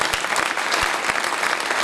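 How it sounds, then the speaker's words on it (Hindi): Steady, dense applause from a large audience at a Jain monk's religious discourse in Nagpur. Many hands clap continuously and loudly with no pauses, and no voices stand out above the clapping. "तालियां ऐसी बजाना जैसी आपने बजा दी हैं"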